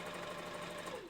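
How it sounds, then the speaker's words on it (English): Sewing machine stitching pieces of fur together, a steady fast whirring hum close by, running continuously without pause. "I know a lot of people get nervous working with a sewing machine"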